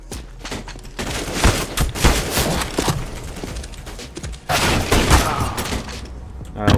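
Rapid bursts of M4 rifle fire in a video game crackle in clustered volleys, loud and close, with scattered shots in between.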